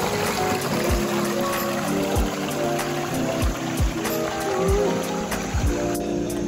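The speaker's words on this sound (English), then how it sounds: "The stream that runs at the bottom of the canyon creates a mid-sized waterfalls" A stream running along the bottom of a canyon in Wadi Lajab, Jazan, Saudi Arabia, feeding mid-sized waterfalls and ponds, gives a continuous close rushing and trickling wash, with scattered low thumps and splashes throughout.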